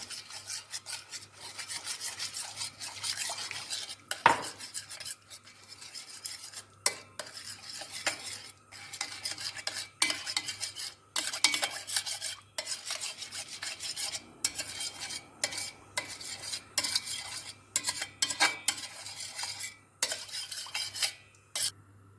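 Sauce made with boiling water being stirred for karnıyarık, with rapid rhythmic rasping scrapes of a utensil against a pan, close and continuous with brief pauses.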